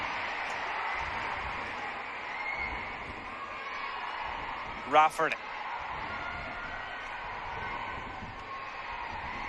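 A Windsor Park football crowd at a Northern Ireland versus Latvia women's World Cup qualifier swells into distant, roaring cheers after a goal, with a brief sharper burst midway and a commentator's voice over the noise.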